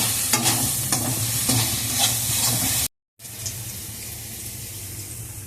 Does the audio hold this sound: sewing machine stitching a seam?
no